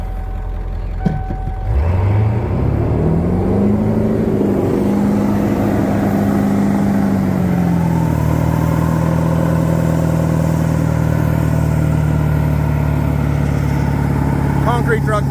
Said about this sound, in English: Concrete truck burnout.